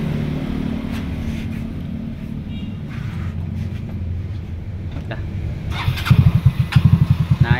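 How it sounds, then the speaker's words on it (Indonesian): A stock Yamaha Xeon GT 125 scooter engine idles with a low rumble, then the throttle is blipped several times in quick pulsing bursts toward the end, close by. "Nah ini motor masih standar ting-ting, jadi soundnya gini."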